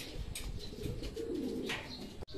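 A racing pigeon coos softly and briefly, close by, at a loft as birds return from a 117 km training sprint race, with faint wing and background noise.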